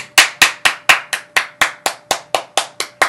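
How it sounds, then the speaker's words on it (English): A single person claps about thirteen times in a steady, even rhythm, each sharp clap close and crisp with a quick decay and no talk. "I applaud."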